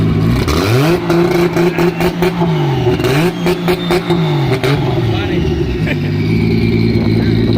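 Nissan car engine at a car shop revving repeatedly with a racing-style note, loud and close, rising and falling over several bursts while a person talks over it.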